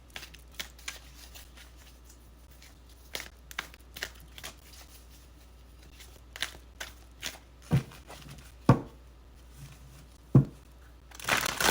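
Dreams of Gaia oracle cards are shuffled by hand, with crisp riffles and flicks that come in irregular bursts, growing busier and louder toward the end, and no voices.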